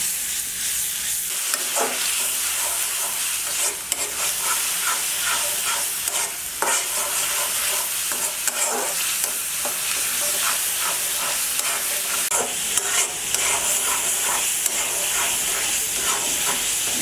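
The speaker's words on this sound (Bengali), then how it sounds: "আমি 2 মিনিটের মতো কষিয়ে নেব।" Ingredients being sautéed (bhuna) in a pan for a doi mogoj curry, a steady loud sizzle with repeated scraping stirs throughout, no talking.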